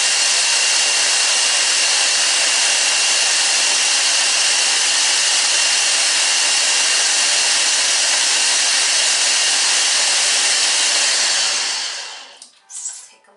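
A blender mixing a cilantro lime sour cream dip gives a loud, steady whirring roar for several seconds, then winds down and cuts off with a brief rattle at the end.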